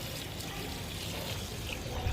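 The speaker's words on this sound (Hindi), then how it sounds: "ये देखें ये पानी दे रहा हूँ मैं इसको।" Water poured steadily into a bird cage water pot, a continuous soft trickling splash heard close up with no talking over it.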